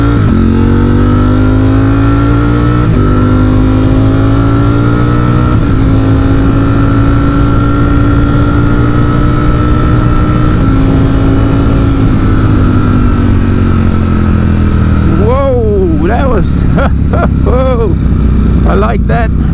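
A Ducati Streetfighter V4 motorcycle engine runs loud and close, holding a steady rev with a few rises in pitch, then sharp throttle blips near the end.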